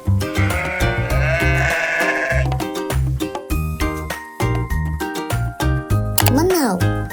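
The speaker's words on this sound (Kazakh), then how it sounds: "Қой." Sheep bleating, with wavering calls rising over a loud, rhythmic backing of children's music with a steady beat.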